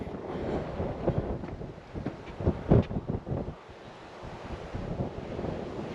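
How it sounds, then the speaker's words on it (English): Gusty, chilly wind on an open overlook buffets the microphone in uneven rumbling bursts, rising and falling over a steady outdoor roar, with no voices. "Kind of windy, chilly."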